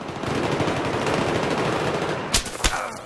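Enemy gunfire in the shooter Battlefield 3: a dense rattle of automatic fire throughout, then two sharp, louder gunshots near the end.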